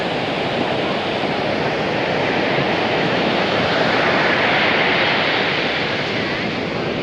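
Ocean surf breaking on a beach at Baler in the Philippines at sunrise, a loud continuous wash of waves with steady wind-like roar filling the whole stretch.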